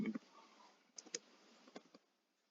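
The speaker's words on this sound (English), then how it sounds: "Let me just type something interesting." A computer keyboard gives a few sparse, faint clicks and taps in a quiet room, with a brief bit of speech at the start.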